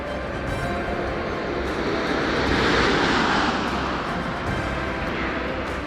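Space Shuttle Atlantis coming in to land on its final flight, a steady broad roar of rushing air and engine-like noise that swells slightly in the middle and holds throughout, with no talk.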